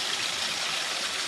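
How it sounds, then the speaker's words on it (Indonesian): Water pours steadily from an opened tap on a filter tank as it is drained for cleaning, a continuous close rushing and splashing flow with no voices. "kita beri stop keran dari bak filter pertama, kemudian ini air yang telah keluar"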